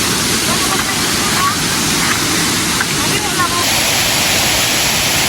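San Jose Falls of Tandag pours with a continuous, dense rushing roar of falling water, close and loud and unbroken across the whole stretch.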